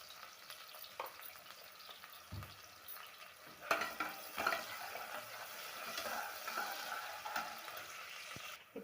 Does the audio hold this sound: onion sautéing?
yes